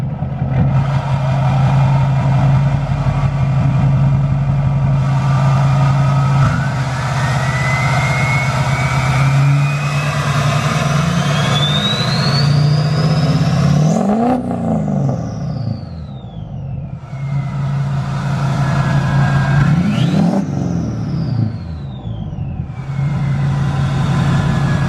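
A Duramax diesel truck fitted with an HSP cold air intake runs loud and close, idling with a deep rumble, then revving twice with rising and falling pitch sweeps and a whining turbo-like tone, with no voices.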